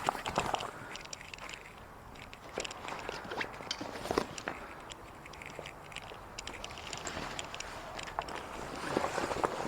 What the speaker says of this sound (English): And then you just pull the cover off.